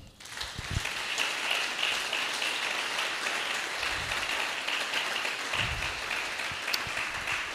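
A church congregation applauds in a sustained, dense wash of clapping that holds steady throughout, with a few low thumps or shouts rising briefly within it.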